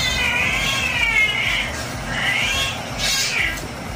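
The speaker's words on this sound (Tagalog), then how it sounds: "Nag-away yung mga pusa." Cats fighting, with loud drawn-out caterwauling yowls rising and falling in overlapping waves. The noise is close and continuous, with no talk over it.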